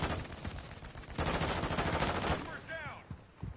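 Gunfire in the Call of Duty 2 video game comes as dense bursts of rapid shots and crackling. Layered radio-style voices and game effects run through it.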